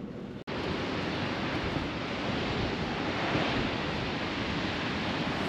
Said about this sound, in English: the wind is a lot heavier over here for obvious reasons